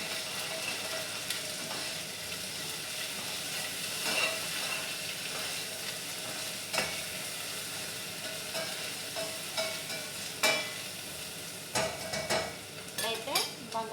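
Ginger garlic paste fries and sizzles in a pan for a vegetable biryani, a steady hiss broken by repeated scraping stirs of a utensil against the pan that grow more frequent toward the end.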